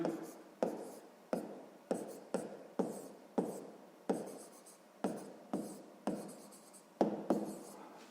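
A pen writes on paper in short, rhythmic strokes, each starting with a scratchy attack and fading quickly, repeating about every half second, close and clear.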